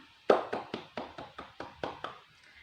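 About eight sharp claps in a steady, evenly spaced rhythm, close and alone, slowing slightly and fading at the end.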